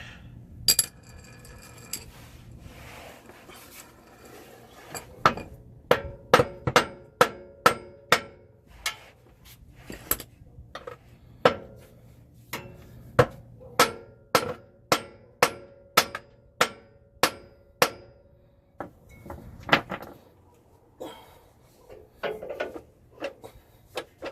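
Sharp metallic blows of a 3-pound hammer ring out one after another while loosening a Toyota center support bearing, irregular and fairly close, with brief pauses between bursts of strikes.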